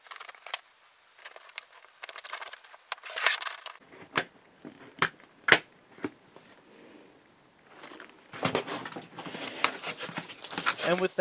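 Sectional track pieces of a Model Power Blue Eagle model train set, radius curves for a 36-inch circle, snap together in a series of sharp, close clicks and plastic rattles, with brief pauses between connections.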